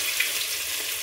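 Ground masala paste sizzling steadily in hot oil for hirvi harbhara bhaji, a dense even crackle with a couple of small pops, close and continuous with no talk.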